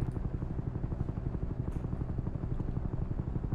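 A helicopter in the video game Trepang 2, heard as a steady, low rhythmic rotor chop that thumps evenly and continuously at a fairly quiet level, with no voices over it.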